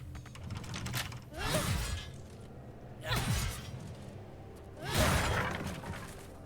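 Three loud crashing smashes of a container broken with a great weapon in Baldur's Gate 3, spaced about every one and a half seconds over quiet game ambience.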